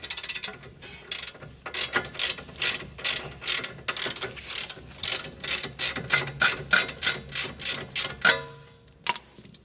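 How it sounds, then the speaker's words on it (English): A ratchet wrench clicks rapidly and rhythmically while loosening a ball joint nut on a car suspension, in bursts of close metallic ticking with brief pauses, ending with a final clank. "And continue to remove the nut."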